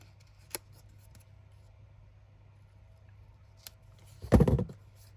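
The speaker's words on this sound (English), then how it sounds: "Just gonna cut these bits out." Scissors snip out paper stamp pieces for a Christmas craft project; a few faint ticks come first, then one short, close cutting burst near the end against a quiet room.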